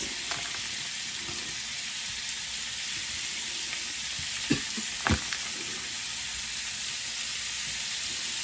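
Strips of steak fry in a pan with a steady, dense sizzle throughout, broken by a few soft clicks and taps of stirring near the middle; no one speaks.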